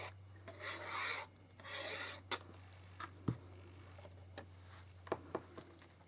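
Paper-crafting at a table while making stamped cards, with two drawn-out scratching rubs followed by scattered light taps and clicks, quiet and close with no voices.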